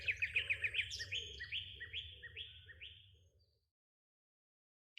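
Several small birds chirp and tweet in dense eucalyptus foliage, a quick run of bright repeated notes followed by a string of descending calls that thin out and fade to silence after about three seconds.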